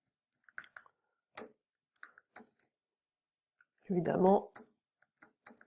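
Typing on a computer keyboard while writing a short business description, soft irregular key clicks in scattered bursts under French speech.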